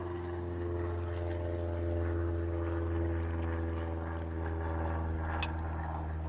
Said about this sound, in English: Little airplane going by